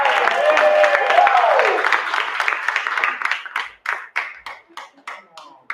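At a noontime stage show, an audience applauds the Bubble Box 7,000 robot act: a warbling electronic tone fades out, then scattered individual claps ring out, close and uneven.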